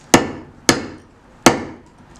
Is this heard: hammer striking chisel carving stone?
yes